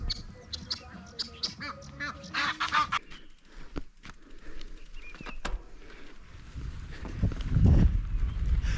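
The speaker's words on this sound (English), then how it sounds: "we have some birds that are feeding" Ducks and geese honk and quack in a busy cluster, fairly close, in a hotel garden at Fairmont Mount Kenya Safari Club, Nanyuki, Kenya, then thin out into scattered calls and a low rumbling outdoor background.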